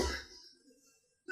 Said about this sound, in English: She gonna drink water and it makes her cough.